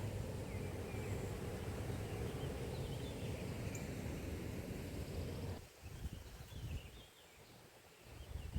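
Steady outdoor wind the day after storms roars and buffets against the microphone, then drops briefly to a gusty lull near the end.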